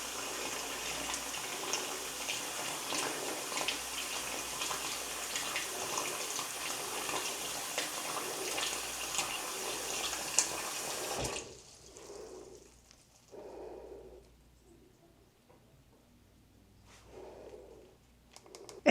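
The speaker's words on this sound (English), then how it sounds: "It's draining pretty well now, but the sink did not drain the first couple nights that we were here." Water runs steadily from a hotel bathroom sink tap, then stops abruptly, leaving quiet gurgling bursts as the basin drains, fairly close.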